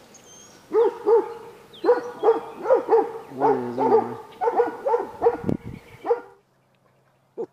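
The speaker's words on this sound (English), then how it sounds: "Coon dogs, blue-tick coon dogs. Up in that yard all fenced off." Blue-tick coon dogs in a fenced yard bark and bay in a steady series of loud, ringing, tonal barks. The barking stops near the end, and a person speaks briefly.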